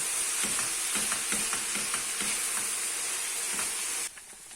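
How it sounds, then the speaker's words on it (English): Ground meat fries in a pan with a steady loud sizzle, broken by a rhythmic series of scraping stirs, until the sizzle drops abruptly near the end; no one speaks. "give your pan the occasional stir to make sure nothing is burning, and to give it a chance for each side of that meat to brown"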